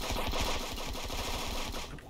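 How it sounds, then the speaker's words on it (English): Rapid bursts of video game gunfire in a multiplayer brawl, a dense loud rattle of repeated shots running continuously without pause, with no talking over it. "I hear gunshots."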